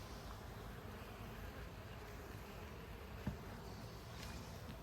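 Honey bees hum steadily around an open top-bar beehive outdoors, a soft continuous buzz with one brief knock partway through.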